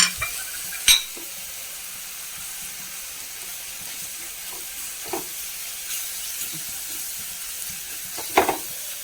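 Mild and hot chili powders with a pinch of fenugreek powder frying in a pan for a sardine curry, a steady soft sizzle with a few sharp clinks and stirring scrapes, close and without speech.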